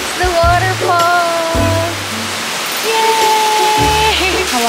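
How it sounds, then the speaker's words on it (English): A waterfall in Sapa, Vietnam pours as a steady, loud, broad rush of water that fills the whole clip, while voices talk and exclaim over it. "And that's the waterfall."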